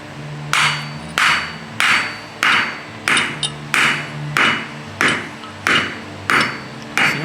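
A slide hammer strikes a motor grader axle repeatedly, about ten sharp metallic clanks in steady rhythm, each ringing briefly and close by, with no talking.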